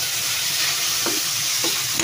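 Tomato, garlic and onion sautéing in a pan give a steady broad sizzle throughout, with a couple of brief scraping stirs near the end.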